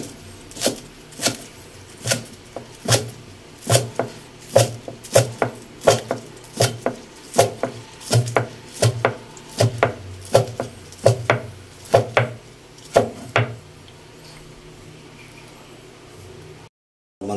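Knife chopping meat for sisig on a board, a steady run of sharp, evenly spaced chops, close and loud, stopping for the final few seconds.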